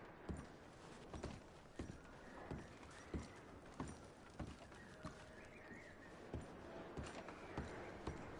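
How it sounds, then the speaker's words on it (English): Horse hooves clip-clop at a steady walking pace in Red Dead Redemption 2, a regular series of close, moderately loud hoof strikes with faint ambient background and no talking. "I'm going to start packing the horses."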